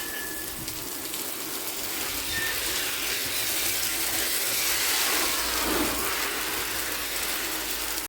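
Heavy rain falls in a steady, dense hiss, close and loud throughout, with no voices, during a monsoon downpour on a bike ride in Gujarat.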